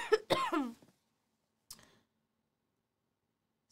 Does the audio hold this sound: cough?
yes